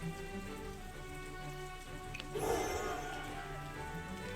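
Steady rain falling in a video game, a continuous hiss of drops under game music that swells briefly with a louder burst partway through.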